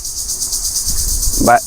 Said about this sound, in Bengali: আর গ্রামে এসে দেখেন ঝিঝি পোকার যে ডাক ঠিক আছে